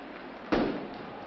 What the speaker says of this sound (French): C'est marrant que les pétards partent de plus en plus nombreux.